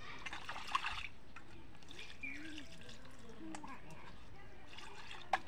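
Water trickles and splashes faintly while charapona fish are rinsed for a Bengali-style dish, a soft running stream with a couple of sharp clinks near the start and end.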